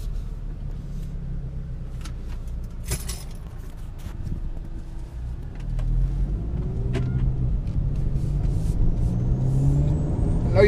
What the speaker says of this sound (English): y'all can hear that turbo.